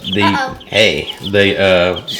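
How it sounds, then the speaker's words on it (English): Cornish cross and barred rock chicks and pullets on a farm, clucking loudly and close in repeated bursts of calls, with no talking. "Now these are beautiful chicks."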